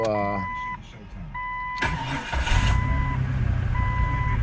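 A car engine with an intermittent crankshaft fault cranks and starts right up, the catch followed by a steady idle rumble under warning chimes, close and fairly loud.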